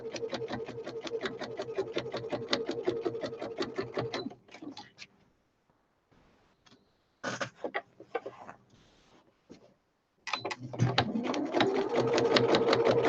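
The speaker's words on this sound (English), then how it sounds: "I'm just going to keep going until I've sewn all the way around" A sewing machine stitches around a fabric sewing machine cover in fast, even rattling bursts, runs steadily, pauses for quiet handling and short restarts, then resumes at full speed, close and loud.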